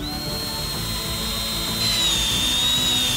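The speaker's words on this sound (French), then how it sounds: "Percez un trou sur le côté avec un tournevis." A power driver, run like a screwdriver, drills a hole in the side of a pipe: a steady high whine with a grinding rumble beneath, close and continuous, growing slightly louder partway through.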